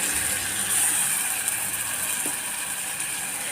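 A mixer grinder whirs steadily as it grinds tomatoes, giving a dense, even mechanical hum with a bright whine and a faint rattle, loud and continuous with no voices.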